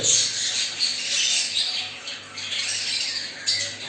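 Budgerigar chicks in a nest box squawk in a continuous, close, shrill chorus of overlapping hissy begging calls, loud and steady with a few sharper peaks.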